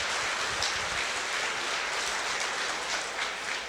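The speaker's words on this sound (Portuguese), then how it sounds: "uma salva de palmas para você" Church congregation applauding fathers during a Sunday service, a steady dense wash of many hands clapping at moderate distance, continuous and even throughout with no talk over it.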